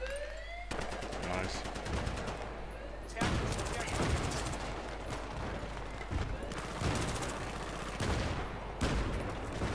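Rapid bursts of automatic gunfire and scattered shots in a Battlefield 3 multiplayer match, loud and dense with repeated volleys and booms, with a player talking over the battle.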